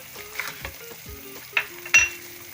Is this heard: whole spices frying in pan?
yes